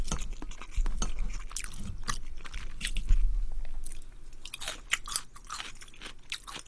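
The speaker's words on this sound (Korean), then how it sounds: "새우 꼬리까지 먹네." Up close, someone crunches through fried shrimp, tails included, with loud crisp bites followed by steady wet chewing and a few sharp crunches.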